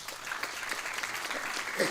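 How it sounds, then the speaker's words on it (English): An audience at a gurukula gathering applauds, a soft, steady round of many hands clapping heard from a distance for the full stretch, without speech over it. "another round of applause."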